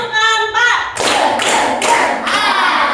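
A children's counted clapping game in a classroom, with sharp rhythmic hand claps in quick bursts, loud and close, alongside voices chanting.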